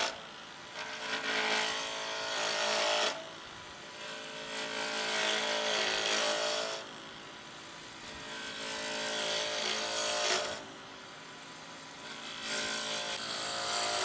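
A wood lathe spinning at 3,400 RPM while a tool rounds a coffee scoop blank, giving a loud, steady scraping hiss in three long passes broken by short pauses, with no talking.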